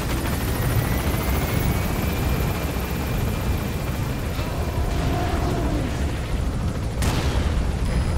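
A helicopter in Metal Gear Solid 5 roars steadily with a dense, continuous rotor and engine drone throughout, loud and close, with a brief sharp burst near the end.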